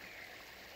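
A stream flows outdoors, its water giving a steady, soft rushing hiss that stays even and continuous through the short moment, with no voices.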